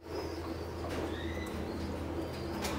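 Racing pigeons in a loft and aviary give low murmuring coos amid a steady background hum, with faint brief wing flutters and chirps scattered through, moderately quiet.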